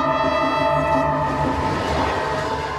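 A passenger train rolls through central China on the seven-hour run from Beijing to Henan province, its steady, loud rumble holding throughout with layered tonal hum and no voices.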